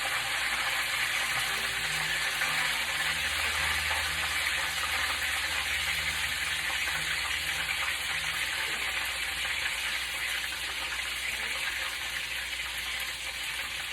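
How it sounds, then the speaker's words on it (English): Turkey wings fry in hot oil for their second cooking, giving a steady, even sizzle with a low background hum throughout. "Nobody wants to get popped by hot oil, hot grease, honey."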